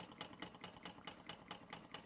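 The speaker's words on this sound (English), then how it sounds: "Engine running like a Swiss watch." Bing 10/110 poppet valve steam engine running on its original burner: a quick, even chuffing beat of about five soft pulses per second, close and fairly quiet, with a light mechanical rattle underneath.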